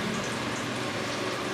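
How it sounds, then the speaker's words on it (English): Chicken drumettes fry in hot oil, a dense, loud, continuous sizzle and crackle with no talking over it. "we're going to just pop them right into the oil and let them start frying"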